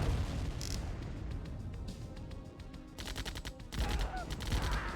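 A buggy fires its machine gun in Command & Conquer: Tiberian Dawn, bursts of rapid crackling shots that grow denser in the second half over game background sound and a faint voice.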